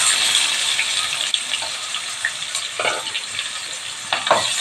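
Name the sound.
chopped onions frying in a pan for kovakkai gravy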